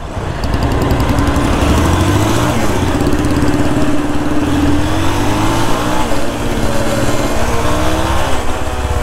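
Royal Enfield Bullet and Bajaj Pulsar motorcycles race side by side, a steady loud engine drone with shifting pitch throughout, close and continuous.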